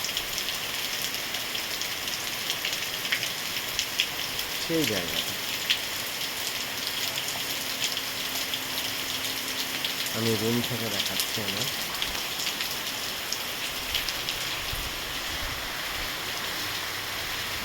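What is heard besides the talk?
rain falling outside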